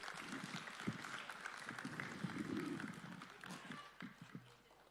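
An audience claps steadily for President Ruto at a Last Mile Connectivity launch event, a broad wash of applause lasting several seconds, with a few heavier thumps and scuffs mixed in.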